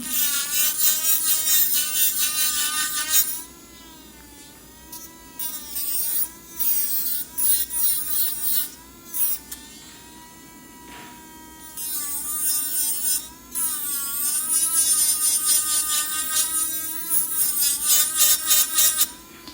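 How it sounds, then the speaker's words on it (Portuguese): An electric nail drill files down a polygel nail, its high motor whine rising and falling in pitch as the bit presses against the nail, running in long bursts with short pauses between passes. "levemente inclinada, com a broca totalmente encostando na unha"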